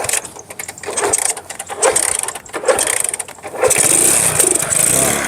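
An old motorcycle that had sat unused for about a month is started with some difficulty: uneven mechanical clattering and sputtering bursts give way to a loud, steadier engine running.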